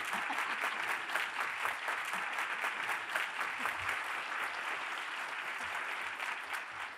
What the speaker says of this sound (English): I want us to please join him in a round of thunderous applause